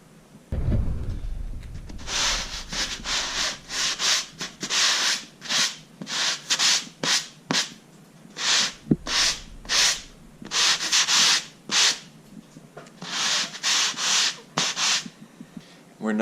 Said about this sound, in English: We're not sanding over the taped area because we do not want to expose the tape itself